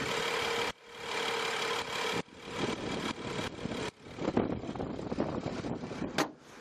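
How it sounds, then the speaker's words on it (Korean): A BMW 5 Series GT inline six-cylinder engine idles with a steady, smooth hum, accompanied by gusty wind buffeting the microphone and a few brief dropouts. "바로 엔진 소리 한번 들려드릴게요."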